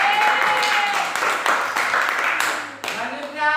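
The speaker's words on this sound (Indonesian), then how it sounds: "Ya, tepuk tangan." Classroom group giving applause after a student team's presentation, a brief burst of clapping under a sustained tone, dipping and swelling with some voices mixed in near the end.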